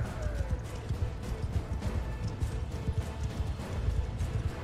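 Horse hooves gallop in the medieval combat game Mount & Blade 2: Bannerlord, a steady dense clatter of hoofbeats running continuously and fairly loud through the whole stretch, with no voices over it.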